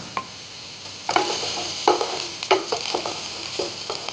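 Onions and garlic fry in peanut oil with a steady hiss, broken by scraping, clacking stirs of a utensil against the pan.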